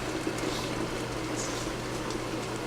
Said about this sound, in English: Can't wait for that water to boil.